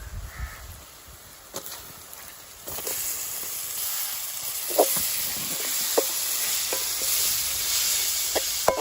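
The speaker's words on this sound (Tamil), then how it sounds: "இது நல்லா வதங்கி வந்துடுது." Onions and ingredients sautéing in a pan in a village kitchen before tomatoes go in, a continuous sizzle that swells after a few seconds, with scattered spatula clinks against the pan and faint crow caws in the background.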